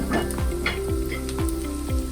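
Spring onions sizzle in a hot pan for pad thai, a steady frying hiss with repeated short scraping stirs at roughly even intervals, close and fairly loud, with no talking.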